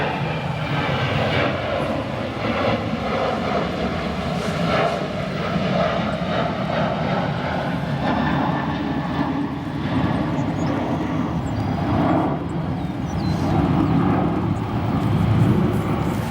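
Jet airliner engines at Chicago O'Hare Airport rumble steadily and loudly throughout, a continuous broadband roar with light rain around and no talk.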